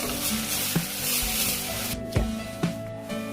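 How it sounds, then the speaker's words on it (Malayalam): Rice roasts in hot oil with cumin seeds and green chilies, making a soft continuous sizzle broken by a few sharp clicks of stirring. "1-2 മിനിറ്റ് നന്നായി വറുത്തെടുക്കാം"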